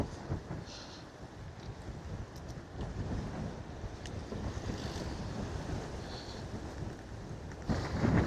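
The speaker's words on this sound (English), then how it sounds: "Really windy here, holy smoke." Strong coastal wind in Ponta Delgada, Azores, buffets the microphone with a dense, continuous roar and gusty rumble, swelling louder near the end, with no talking.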